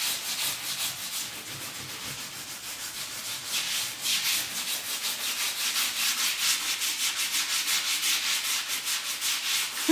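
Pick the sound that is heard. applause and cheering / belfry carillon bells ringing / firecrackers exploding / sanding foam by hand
sanding foam by hand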